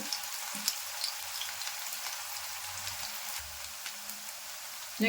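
Onions frying in about 50 grams of hot oil, giving a continuous fine crackling sizzle at an even, moderate level with a few louder pops and no voices.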